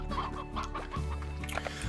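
A hen clucks steadily and close in the video game Slime Rancher, with game music and ambience running underneath.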